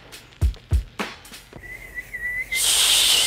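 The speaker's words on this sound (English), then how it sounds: "That's the final whistle." A few dull thuds, then a single sustained shrill referee's final whistle at a Premier Lacrosse League game, followed by a burst of loud, noisy cheering.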